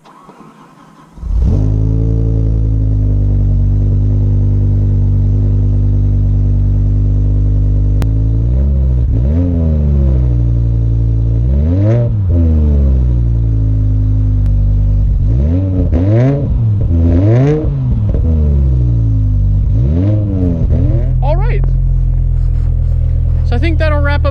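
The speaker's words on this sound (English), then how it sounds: "see if I can get a cold start" A BMW M5 with 141,000 miles cold-starts with a sudden catch, then settles into a steady idle broken by a series of sharp, loud revs that climb and fall, several coming in quick succession near the end.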